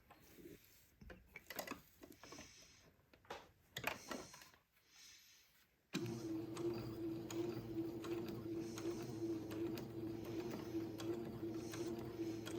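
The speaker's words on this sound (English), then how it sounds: "Now I'm going to baste it into place at about 1/8 of an inch away from the top edge of the neck hole opening." Sewing machine basting a pleat near the neck opening of a cotton baby gown, a steady close mechanical whir running for several seconds after some quieter handling noises.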